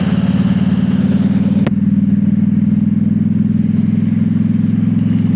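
A motorcycle fitted with a new exhaust drones steadily while being ridden downhill in snowy, rainy weather, a loud continuous low engine note with one brief click partway through.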